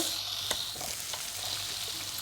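Potatoes and eggplant sizzle steadily in hot oil, with a few soft utensil taps and stirring sounds over the hiss.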